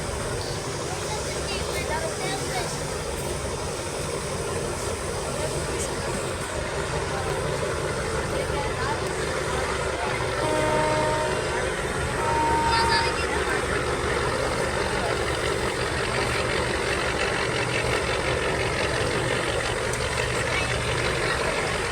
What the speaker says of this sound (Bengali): ঢাকার উদ্দেশ্যে এমবি কর্ণফুলী 14 নৌযান ঢাকার উদ্দেশ্যে রওনা হয়েছে।